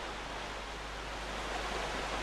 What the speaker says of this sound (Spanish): El río Ara baja con mucho caudal, pues son aguas procedentes del deshielo primaveral en las altas cumbres del Pirineo